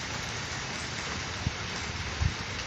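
Steady rain from the remnants of Hurricane Gordon falls in Indianapolis, a dense continuous hiss of drops on surfaces with a couple of faint low thumps.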